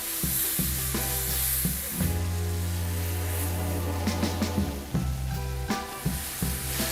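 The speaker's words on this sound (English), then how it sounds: "I'll leave a little to fry the spice paste" Garlic and ginger spice paste frying in a hot pan, a steady close sizzle with brief stirring scrapes and a few bursts of louder spitting, no voices.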